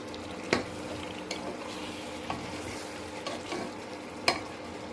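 Chicken fries in a pan with tomato, sour yogurt, cumin paste, ginger-garlic paste and onion paste while being stirred, giving a steady close sizzle and a few sharp clinks and scrapes of the spoon against the pan.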